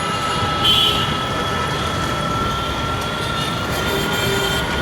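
A Dhaka metro rail train passes overhead on its elevated track, a steady low rumble and rolling hum with faint high whines, heard from the street below at moderate volume with no talk.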